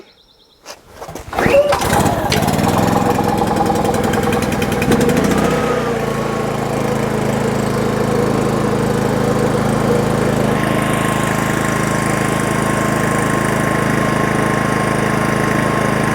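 A Toyota engine turns over and starts with eco mode off, then settles into a steady, fairly high idle that hums on loud and continuous close by, with no talking.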